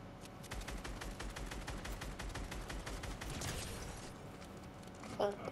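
Rapid, dense bursts of automatic gunfire from the video game Fortnite crackle almost continuously, loud and close, with a brief burst of other game noise near the end.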